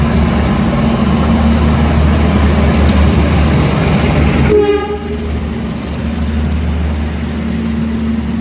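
A passing Indonesian passenger train overtakes a stopped train at a station, loud continuous rumble and wheel noise close by, which drops away abruptly after a few seconds into a lower steady roar.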